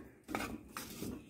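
Chopped potatoes being stirred with salt in a pressure cooker: a couple of near metallic scrapes and clinks of a utensil against the pot, in short bursts with no talk.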